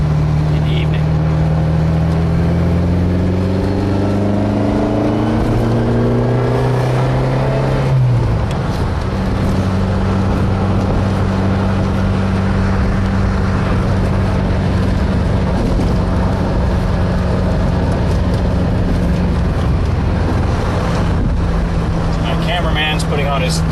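Red 1979 Ferrari 308 GTS engine heard from inside on Glenmore Trail at night, loud and close, the tone rising through the gears with an audible shift, then holding a steady drone, with people talking over it.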